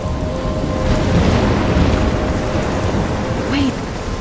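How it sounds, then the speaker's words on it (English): Storm in the video game Life Is Strange: loud, steady rain and wind noise with a deep rumbling thunder swell near the middle, a faint voice-like sound briefly rising toward the end. "I'm trapped in a storm?"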